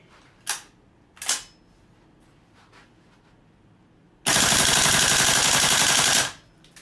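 A GHK gas blowback AR airsoft rifle on green gas with a plastic magazine fires full auto, a loud unbroken two-second burst of rapid shots following a couple of sharp single clicks.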